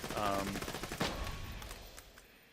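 An Anarchist gun in Borderlands fires a quick burst of loud shots that trail off into a fading echo, while someone talks over it.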